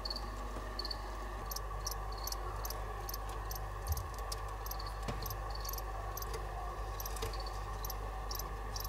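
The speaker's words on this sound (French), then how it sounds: "Est-ce que vous entendez les grillons chanter?" Crickets chirp steadily in short repeated pulses over a constant low background hum, with no voices.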